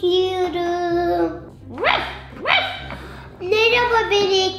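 A cartoon dog in a children's dress-up game yips and barks in short bursts, mixed with bright game music and playful, childlike voice sounds.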